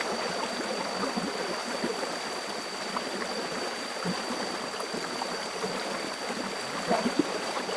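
A clear, cold forest stream flows with a steady, fairly soft gurgle and trickle throughout, with a few small splashes and no talking.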